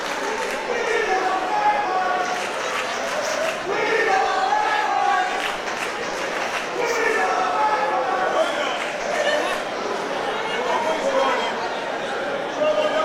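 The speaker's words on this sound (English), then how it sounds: "Crowd saying something to Fulton here. I couldn't quite make it out." A wrestling crowd at a CCW show in Miami shouts and chants at a wrestler, a dense, continuous roar of voices filling the arena.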